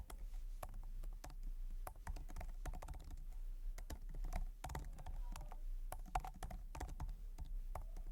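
Quiet, close computer keyboard typing of C++ code, irregular clicks and key taps in quick bursts and pauses over a low hum, with no talk.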